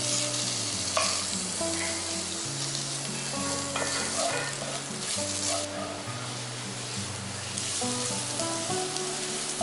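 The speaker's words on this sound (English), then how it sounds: "Now we're going to add the pork so that we can also sort of like sear it." Pork sears loudly in a hot pan to make sinigang-style sigarilyas sa gata. A constant close sizzle and crackle runs the whole way through, stirring sounds come and go, and a low background hum sits underneath.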